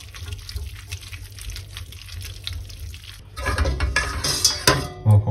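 Utensil scraping and stirring spaghetti for cacio e pepe in a pan, with liquid sloshing; the clatter grows louder and busier in the second half, with occasional sharp clinks.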